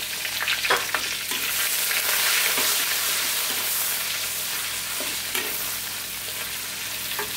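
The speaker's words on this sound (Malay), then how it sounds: "Lepas tu kita panaskan bahan dia, masak tumis. Serai, 1 batang serai, bawang merah 1 biji, dan pandan 1 helai." Lemongrass stalk, a shallot and a pandan leaf sautéing in hot oil for sambal, a dense continuous close sizzle with occasional light spatula scrapes.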